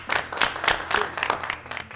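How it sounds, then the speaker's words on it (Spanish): Brief applause for a guest in a studio setting: a small group claps in quick, uneven bursts, faint and close, lasting about two seconds. "un gran aplauso para don Manolo."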